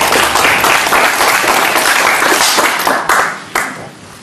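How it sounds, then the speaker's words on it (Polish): Audience applause at an art exhibition opening at an artists' house, steady dense clapping from a nearby crowd that fades in the final moments. "Duża brawa."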